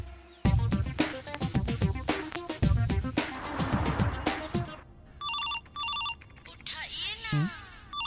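A mobile phone rings with an incoming call, a repeating electronic ringtone in short bursts heard after a stretch of loud music and voices at the start.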